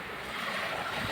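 Sea waves wash along a Spanish beach at Benalmádena in a steady, broad surf roar, with wind buffeting the microphone throughout and no voices.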